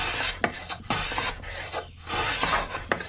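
A hand block plane shaves and rasps along a wooden corner, rounding it with a series of close, scraping strokes that come in uneven bursts with short pauses between passes.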